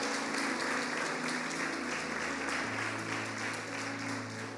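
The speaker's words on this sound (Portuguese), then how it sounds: "Você pode aplaudir ao Senhor Jesus bem forte" A church congregation applauds during a worship service, a continuous spread of clapping from many people with a low sustained tone underneath, moderately distant and fairly soft.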